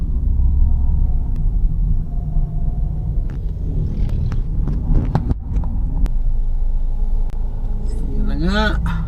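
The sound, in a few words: heavy road traffic with trucks on East Bank Road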